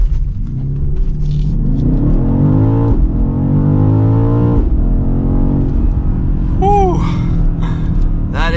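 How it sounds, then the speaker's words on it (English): A 2023 BMW XM launching hard under launch control, its engine and exhaust roaring and climbing in pitch through a couple of quick upshifts, loud and close from inside the car, with a brief exclamation from an occupant near the end. "But now it is time to test out launch control."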